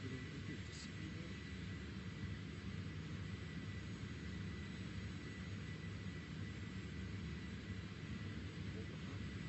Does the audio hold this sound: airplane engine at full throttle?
yes